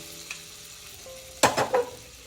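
A spoon stirs pachari rice payasam in a pot, giving two or three short scraping, sloshing strokes close by after a quiet start.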